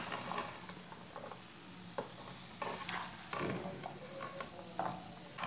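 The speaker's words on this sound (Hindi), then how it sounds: "उबली हुई सब्जियां डाल लेंगे। इसे ना मिक्स कर लेंगे।" Boiled vegetables being stirred into noodles in a pan, giving a steady soft sizzle broken by a few scraping strokes of the spoon, close and without talk.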